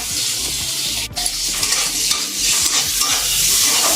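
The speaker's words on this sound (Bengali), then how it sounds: "এবার আমি কাজু কিশমিশটা ভেজে নেব।" Cashews and raisins fry in ghee in a kadai, a loud, close, continuous sizzle with the scrape and stir of a spoon moving through the pan.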